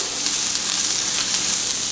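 Ham sizzles on a hot Blackstone griddle in a steady, bright, crackling hiss that stays even throughout, close up and with no talking.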